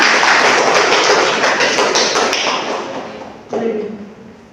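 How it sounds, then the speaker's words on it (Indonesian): Applause from a classroom of students for a classmate: dense, loud clapping that fills the room and fades out over a few seconds, with a brief burst near the end. "Beri aplaus untuk temannya"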